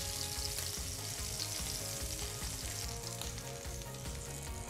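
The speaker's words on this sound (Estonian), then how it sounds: "Ma panen nad panni peale ja ma praen nad poolenisti läbi, et saada siuke kerge krõbe kiht neile." Giant shrimp frying in a pan, half-cooked to build a light crisp coating for fajitas; a steady, dense sizzle runs loud and close throughout, with no talking.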